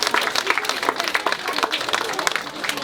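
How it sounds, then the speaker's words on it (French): Crowd applause at a fishing festival in Nevers: lively, constant clapping from many people all the way through, with some voices in the crowd. "Bon, on peut l'applaudir."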